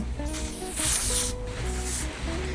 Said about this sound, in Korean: 스프레이는 이거 미장센 거 써주고 있는데 그냥 여기다가 그냥 겉에만